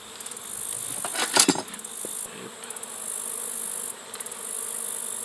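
Honeybees buzzing around a beehive being shifted onto a spare base in September, a steady close hum with swelling bursts and a few light metallic clinks.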